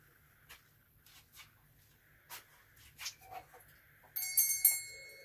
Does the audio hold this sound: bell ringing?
yes